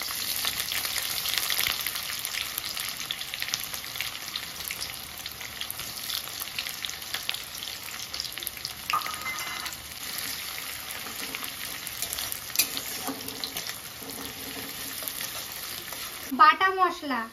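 Chopped onion fries with whole spices in a hot pan, giving a steady dense sizzle that runs throughout, with occasional stirring scrapes and a brief clatter near the end.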